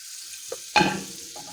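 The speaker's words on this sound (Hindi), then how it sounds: "इसमें थोड़ा सा मैं बटर डाल देती हूँ ताकि ये एकदम से जले नहीं" A spoonful of butter goes into a hot pan and sizzles with a sudden sharp hiss that fades to a soft crackle, preceded by a faint clink.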